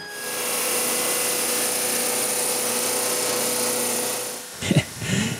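A drum sander works a mahogany panel with a steady, fairly quiet whirring drone that runs for several seconds, then cuts off and gives way to a few brief knocks and handling sounds near the end.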